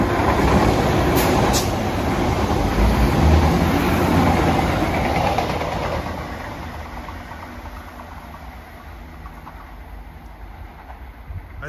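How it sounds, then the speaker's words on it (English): An express passenger train approaching from Westport on the Dublin area line, a steady loud rumble and engine drone that builds, then drops to a quieter sustained roar about halfway through. "here comes an express from Westport"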